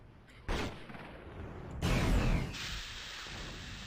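Sniper gunfire in Warhammer 40k: Fire Warrior: two sharp, heavy shot bursts a little over a second apart, the second louder and longer, each trailing off into a low rumble over steady in-game background noise.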